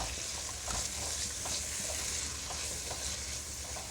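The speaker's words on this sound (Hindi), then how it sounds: "इस सबको हम इस तरीके से हल्का सा सौते कर लेंगे" Chopped onion, tomato, garlic and ginger sautéing in a pan for an egg keema masala, a steady close sizzle with soft stirring scrapes running throughout.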